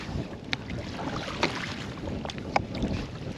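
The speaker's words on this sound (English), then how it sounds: "We're gonna row ashore." Someone rows a dinghy ashore in Pelorus Sound in New Zealand's Marlborough Sounds during heavy weather, with sharp oar knocks every second or so over steady water wash and rumbling wind buffeting the microphone.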